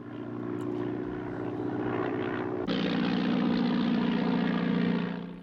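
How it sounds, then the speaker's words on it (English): A propeller plane drones in a 1960 film scene just before it crashes, the engine hum steady and loud, then swelling abruptly midway as it nears. "this plane's gonna crash"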